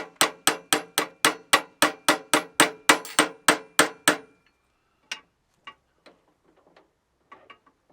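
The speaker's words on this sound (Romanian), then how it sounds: "Dacă este nevoie, lovim ușor cu ciocan în articulație până ce arborele ajunge în poziția corectă" A rapid series of about fifteen sharp metallic hammer taps on a shaft joint while assembling a Campo T18 G2 4x4 mini tractor, steady rhythm, close and loud, then a few scattered lighter knocks after a pause.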